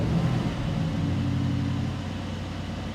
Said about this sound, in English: So now they've actually allowed me to start up the car and give you a few revs.